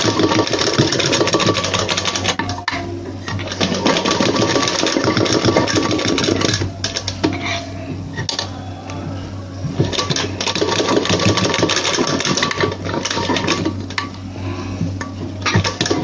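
An electric sewing machine runs loud and close, stitching a blouse in long continuous bursts with a rattling mechanical whir and a few brief slowdowns and pauses, and no voices.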